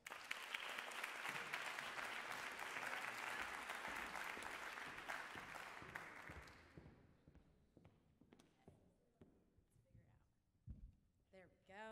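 An audience at a spoken word poetry night breaks into dense, loud applause that carries steadily for about six seconds, then thins out into a few scattered claps, shuffling and knocks.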